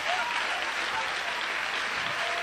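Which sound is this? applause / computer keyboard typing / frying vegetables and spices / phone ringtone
applause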